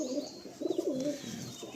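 A single Malwai pigeon at a Kolkata pigeon seller's gives soft, warbling coos in short rolling phrases, fairly close and unaccompanied by talk.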